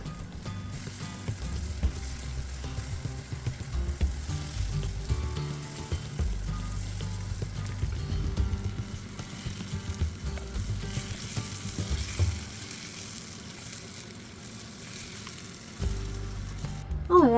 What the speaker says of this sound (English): stir everything together and fry those for about 5 to 7 minutes until the peppers have become all soft too